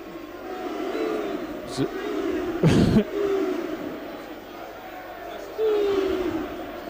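Football crowd at a Millwall match against West Ham, a loud sustained roar of booing and jeering from the stands, with swells and a sharp burst midway, under a commentator's voice.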